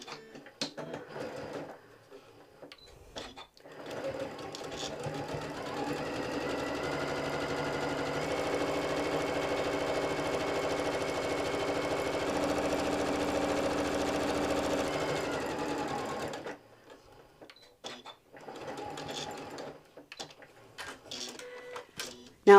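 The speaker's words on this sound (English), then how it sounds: "So I'm just going to sew down these 2 lines." A sewing machine fitted with a walking foot stitches down two straight lines, running steadily for about thirteen seconds with a dense mechanical whir, framed by quieter handling noises before and after.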